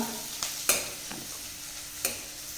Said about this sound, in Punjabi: ਆਪਣਾ ਪਿਆਜ਼ ਭੂਜ ਰਿਹਾ ਹੈ ਭਾਈ